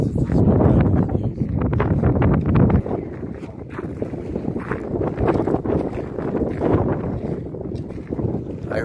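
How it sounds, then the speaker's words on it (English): Strong wind on a hilltop along the Pacific Crest Trail buffets the microphone in loud, continuous gusty rumbles, strongest at first and then easing slightly but persisting throughout, with faint voice-like sounds mixed in. "I heard the wind was really strong up here. I'm feeling it now."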